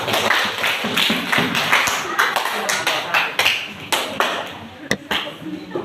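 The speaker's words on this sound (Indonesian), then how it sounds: "Kita ganti tepuk tangan." A school classroom audience claps steadily, a dense patter of many hands with scattered sharper claps, voices faintly mixed in underneath.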